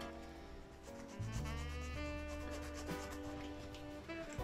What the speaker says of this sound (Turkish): O yüzden şöyle bir güzel bir zımpara atıyoruz.